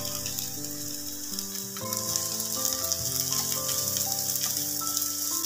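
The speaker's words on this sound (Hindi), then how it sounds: "ऑनियन को हल्का सा भून लेंगे।" Sliced onions sizzling lightly in a pan with oil, a steady close frying hiss that grows slightly louder, with faint background music and no talking.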